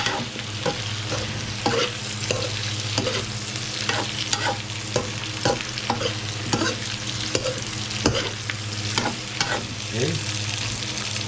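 Food frying in a pan while being stirred, with a steady sizzle underneath and a run of scraping utensil strokes at an uneven rhythm, close and fairly loud.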